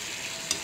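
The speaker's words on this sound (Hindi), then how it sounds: "लो टू मीडियम हीट पे हमने इसे खुश्क होने तक पकाना है।" Chicken frying in a pan over low heat, a soft, even sizzle with faint crackles and one brief louder pop, close by and with no talk.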